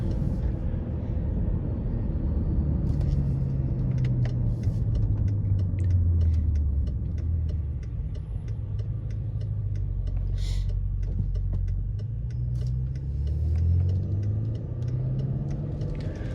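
A BMW X5M engine pulls hard and shifts through gears, with a loud, deep, steady roar whose pitch climbs, drops at each shift and rises again, heard from close inside the vehicle.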